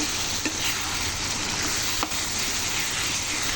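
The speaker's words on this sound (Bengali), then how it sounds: "এবার আমি একটু মাংসটাকে কষিয়ে নেব" Pigeon meat sautéing in spices, a steady close sizzle with a couple of sharp clicks from stirring, no talking.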